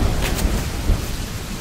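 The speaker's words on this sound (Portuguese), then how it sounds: "Ih, Carmo, é só um trovãozinho aí, ó, a chuva lá fora." Rain falls steadily outdoors with low rumbles of thunder rolling underneath, a continuous wash of storm noise with a couple of brief swells and no voices.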